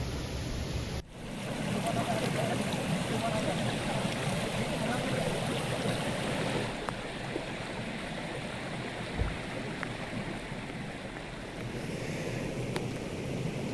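Heavy rain pours in Chhattisgarh while floodwater rushes past, a dense, continuous roar that cuts in abruptly after a brief sound and then holds steady, with occasional knocks.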